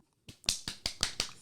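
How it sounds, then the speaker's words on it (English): A woman clapping her hands, five or six sharp claps at a steady quick rhythm, fairly close, with no talk. "That's my wife clapping."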